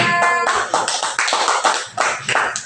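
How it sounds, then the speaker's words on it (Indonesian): A school class applauds a student group, close, brisk clapping from many hands in quick uneven bursts lasting a few seconds. "Kasih aplaus buat kelompok 3."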